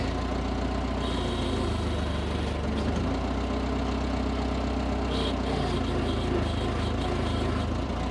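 A forklift idles steadily and lifts the back of a vehicle, its engine a constant low rumble throughout with brief mechanical clanks partway through; no voices.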